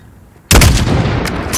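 Single sniper rifle shot in Call of Duty Modern Warfare, fired at a 600-meter target: a sudden loud, sharp blast after near silence, followed by a long booming echo that trails off.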